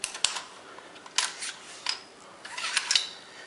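An AR-15 bolt carrier being popped open, giving a series of small sharp metallic clicks and snaps spaced irregularly, close and fairly quiet with no talking.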